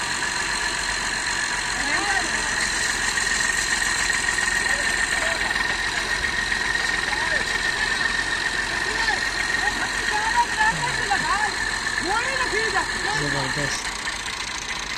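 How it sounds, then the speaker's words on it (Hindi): A tractor engine runs steadily at an idle-like rumble while the tractor crosses water, constant and fairly loud throughout, with scattered higher chirps and voices in the background. "ये ट्रैक्टर को पानी से पार करने का तरीका है।"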